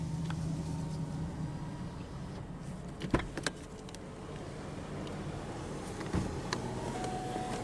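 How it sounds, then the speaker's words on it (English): Power window motor on the driver's door of a 2007 Cadillac STS V8 whirring steadily as the glass rolls down, with a couple of soft clunks midway, heard close up inside the car with no talking. "Now we'll go ahead and roll down the driver's window."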